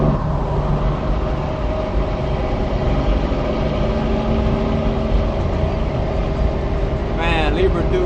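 A Kenworth W900 truck engine rumbles steadily and loudly up close, a continuous low roar throughout with a brief higher whine near the end.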